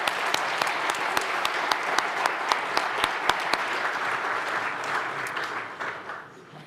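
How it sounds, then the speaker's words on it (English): An audience applauds panelists at an energy transition conference, a dense, steady clapping with sharp individual claps standing out early, fading gradually toward the end. "So let's give a round of applause to our panelists."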